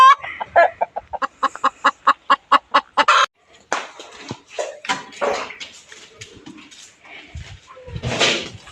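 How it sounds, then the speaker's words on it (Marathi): A hen sitting to lay eggs clucks in a fast, loud run of evenly spaced pulses, then breaks into irregular squawks and cackles up close. "कोंबडी तिथं बसलेला आहे अंडी घालायला."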